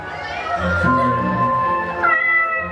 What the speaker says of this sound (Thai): ไม่จะเสียงแมวนั่นเหรอ คงจะเป็นของเล่นเด็กแหละ